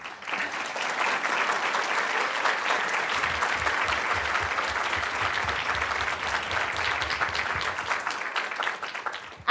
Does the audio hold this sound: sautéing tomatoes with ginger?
no